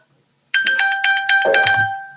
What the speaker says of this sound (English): And it makes the phone chirp.